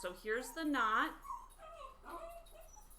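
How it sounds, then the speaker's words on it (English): A pet dog whimpers and yips in short, high whining bursts near the start, close by, while a person talks during a pom-pom craft session. "that is my dog"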